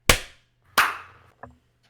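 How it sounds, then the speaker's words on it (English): A few people clap together on a count at the end of a casual podcast episode, giving two sharp near claps and a smaller third one, with quiet gaps between them and no talk. "Let's clap."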